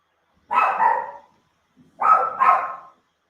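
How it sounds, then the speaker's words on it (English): A dog barks two short double woofs, close and fairly loud, with a second's quiet between them and nothing else around. "that's my dog barking"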